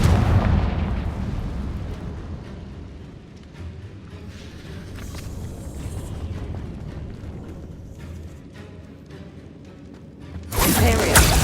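Confringo fire spell explosions in Hogwarts Legacy boom through combat as a dense, rumbling series of blasts, with a loud burst right at the end.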